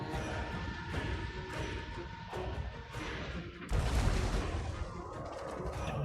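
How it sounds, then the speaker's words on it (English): A mortar shot exploding on a Total War: Warhammer 2 battlefield, a heavy booming blast that rises out of continuous rumbling battle noise with scattered thuds and crashes. "good mortar shot there"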